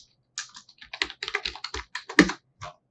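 Someone types code on a computer keyboard in a quick, uneven run of close, crisp key clicks, with one louder keystroke near the end and no talk.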